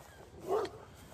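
A small white dog lets out one short, soft bark at some distance outdoors in the morning. It stands out briefly against quiet background noise.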